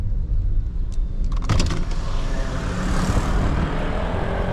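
Car passing close on a narrow residential street in Taipa, Macau, a steady broadband engine and tyre roar that swells past the midpoint and then eases, with no talk over it.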